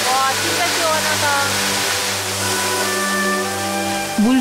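Water from a waterfall in a cool Korean summer valley makes a steady, loud broadband rush that fills the whole stretch, with a strong wind adding to it and voices talking faintly over it.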